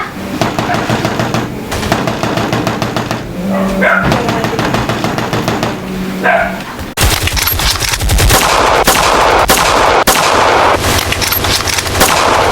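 Dense gunfire in a dramatized night attack scene, loud rapid bursts and single shots crackling close by, mixed with shouting voices and barking dogs.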